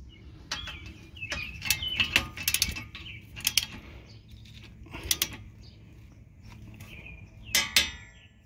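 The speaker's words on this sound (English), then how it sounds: "17 millimeter socket, put it on that bolt on the inside, and start securing the bolt." A 17 mm socket and ratchet tighten a brake caliper bracket bolt on a 2015 Toyota Venza, giving a series of close, sharp metallic clicks and ratchet creaks in uneven bursts, with no talking.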